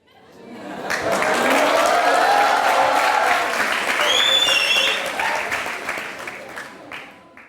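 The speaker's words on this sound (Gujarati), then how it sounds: "આમણે તો તમારા માટે તાળીઓ વગાડી છે" Studio audience on an Indian courtroom-style talk show bursts into loud, sustained applause, many hands clapping densely for several seconds before tapering off, with a brief faint whistle-like tone riding over the crowd.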